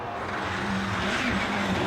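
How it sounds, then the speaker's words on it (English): A rally car braking into a left-hand bend on the Donegal Harvest Rally, a steady loud engine roar with a rough droning tone across the whole short stretch and no voices. "I'm braking on this left-hander here."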